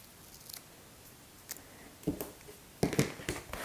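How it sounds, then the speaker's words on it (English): Scissors trimming paper for a junk-journal planner page: a few crisp, close snips spaced irregularly, growing louder toward the end, with no talking. "I'm going to go ahead and trim this one off"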